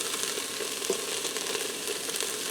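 Minced garlic fries with onions in a pressure cooker, giving a steady, soft, continuous sizzle with a few faint crackles and no voices.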